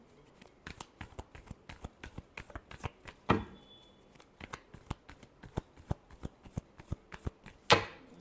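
Tarot cards being shuffled by hand, a quick run of crisp papery snaps and flicks at close range, with two sharper riffling bursts standing out amid the steady patter.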